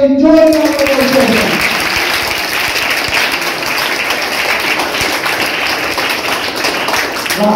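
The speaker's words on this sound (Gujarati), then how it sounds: "બધાને તાળીઓની જોરદાર તાળીઓ છે" Studio audience at a patriotic quiz show breaks into loud, sustained applause that fills the room, following a brief voice at the start, with dense clapping continuing throughout.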